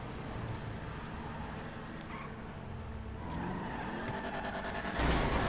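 Car tires spinning and skidding in GTA 5 Online during a lowrider car meet, a steady grinding engine and tire noise that swells louder near the end, with no talking.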